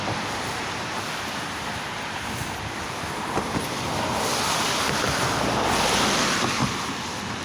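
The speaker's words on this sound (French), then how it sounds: "La rivière sous la neige." An unfrozen river flows beneath snow at about minus one degree, a steady broadband wash of water with wind buffeting the microphone, continuous and fairly loud throughout.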